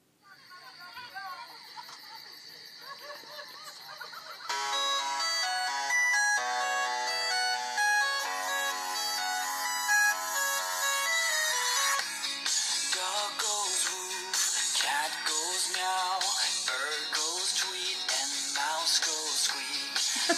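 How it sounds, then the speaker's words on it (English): A phone at full volume plays a novelty song through a toilet roll speaker, with steady music running throughout and a louder, fuller section kicking in after the first few seconds. "let's listen to top volume on the phone"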